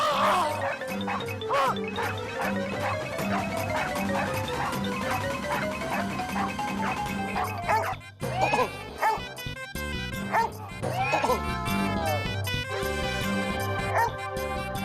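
A dog barks and yips repeatedly amid a noisy comic scene, its barks mixed with background music and frantic shouting voices throughout.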